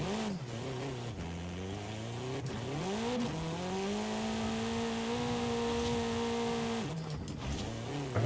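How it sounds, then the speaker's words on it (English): A torquey 2-liter drift car in Forza Horizon revs hard, its engine note swooping up and down through quick gear changes before holding a high, steady howl, loud and close with no talking. "This is a very torquey car for a car with just a 2 liter"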